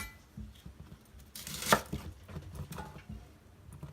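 A knife cuts through red onion on a board, giving faint, sparse taps with one sharper, louder cut partway through, in a quiet kitchen.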